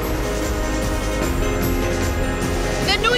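Lifeboat engines with propellers lowered into the water, pushing the boat along at speed: a loud, steady, broadband roar and rumble throughout, with no clear voices over it.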